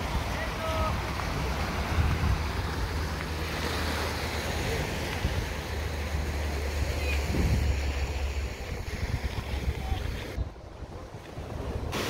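Sea surf rolling onto a pebble-strewn sandy beach right beside Mamure Castle in Anamur, Mersin, a steady broad wash of waves with wind buffeting the microphone throughout.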